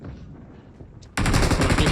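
Gunfire in the mobile battle royale game PUBG Mobile, heard as a sudden loud burst of rapid automatic shots that starts midway and continues densely to the end after a quieter stretch.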